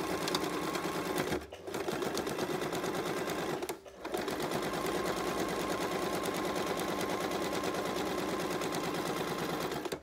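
A sewing machine stitches an apron with a fast, steady mechanical rattle that runs loud and close, broken by two short pauses before it resumes.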